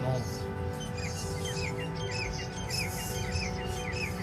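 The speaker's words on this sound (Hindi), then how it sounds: "ये चहचहाते पशु पक्षियों की आवाज" Small birds chirp and tweet repeatedly in the background over a steady wash of ambient noise, fairly faint and continuous.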